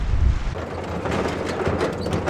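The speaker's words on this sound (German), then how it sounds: "Einfach zu windig" Strong wind roaring steadily against the microphone, a dense low rumble with gusty buffeting throughout, close and loud, no voices.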